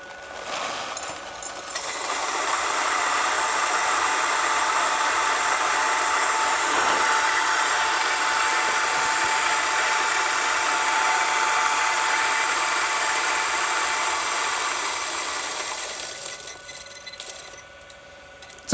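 Geimori GU78 coffee grinder grinding dark roast beans, a loud steady whirring hum that starts after a brief pause, holds evenly for about thirteen seconds, then winds down, with no talking over it.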